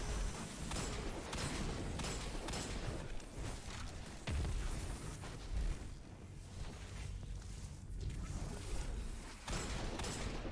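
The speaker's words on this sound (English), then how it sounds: "So you have back-to-back grenades to no end." Grenade blasts in Destiny 2 rumble and boom one after another in a dense, continuous barrage, with heavy low thumps around the fourth and sixth seconds over constant game noise.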